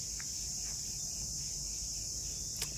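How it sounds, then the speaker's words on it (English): Cicadas shrill at sunrise in Vietnam, a continuous high, even drone filling the background, with a few faint chirps and a small click over a low outdoor rumble and no talk. "And you can hear all the cicadas."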